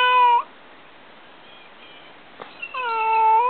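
A stray cat outside a front yard gives two loud, close meows, one brief at the start and a longer drawn-out one at the end, with near silence between apart from a couple of faint knocks.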